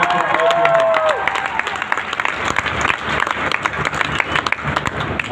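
A crowd applauds continuously and fairly loudly at a Hindi motivational talk, a dense, even wash of clapping with a brief tonal sound near the start.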